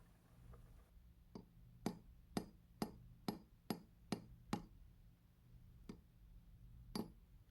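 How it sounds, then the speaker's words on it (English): A series of sharp, light metallic hammer taps on a watch staking set, punching out the roller table of a Rockford pocket watch, about a dozen, mostly in quick even succession then spaced out, close and clear over a quiet background. "Light taps with a hammer is all it needs."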